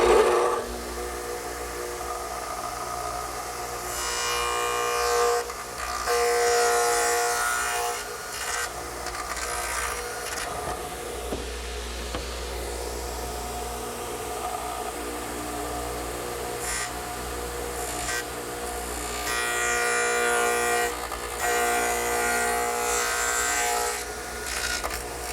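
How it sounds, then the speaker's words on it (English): A radial arm saw fitted with a dado head cutter runs in a woodshop, cutting rabbets in short pieces of wood for a coffee table, with a steady loud whine and grinding passes rising and falling as each cut is made. "I'm going back to the radial arm, which is set up with the dado head cutter"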